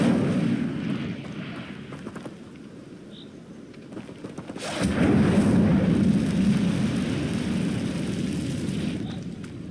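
Fire spell cast in the video game Hogwarts Legacy, a loud sustained whooshing roar of flame that swells midway and holds, layered over game rumble and effects.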